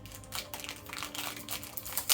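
Close crinkling and crackling of wrapping coming off a Rose d'Araby fragrance package in a matte box, in short irregular bursts with a sharper tearing rustle at the end.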